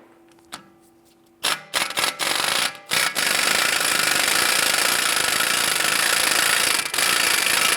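An impact wrench loosens the 33mm wheel hub spindle nut on a 2012-2017 Toyota Camry, starting with a few short bursts and then hammering continuously and loudly.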